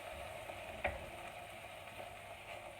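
Steady sizzling of mutton frying in a hot pot for stew, a constant crackly hiss with a faint clink of utensil near the start.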